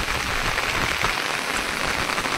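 Heavy monsoon rain pours down near a swollen village stream, a loud, unbroken wash of hissing noise with no voices.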